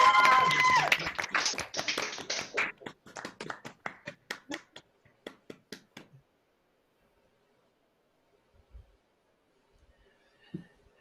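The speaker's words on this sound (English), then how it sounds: "Give yourselves a great shout and cheer for each other." Engineering graduates cheer and clap for each other at a graduation celebration: a dense burst of shouts and applause that thins into scattered individual claps over about six seconds, then near silence with a few faint knocks.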